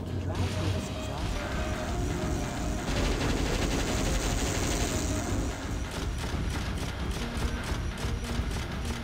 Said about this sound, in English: This cannon vehicle is heavy enough that we can drive through this exhaust.